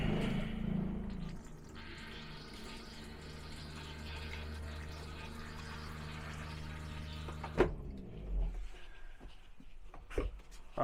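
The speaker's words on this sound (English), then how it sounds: "then we're gonna flush our toilet." A toilet in a 2026 Jayco Jay Feather 29BHB travel trailer flushes with a steady rush of water and pump hum lasting several seconds, then a sharp clunk and a few fainter knocks as it stops, close by with no talking.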